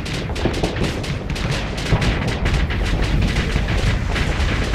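Rapid volleys of torpedo weapons firing and impacting during a space battle in Starsector, a dense, loud run of booming blasts and crackling bursts that keeps going without pause.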